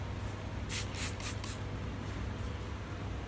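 Cleaning spray misted onto white shoes in four quick, close hissing bursts, followed by a faint quiet background.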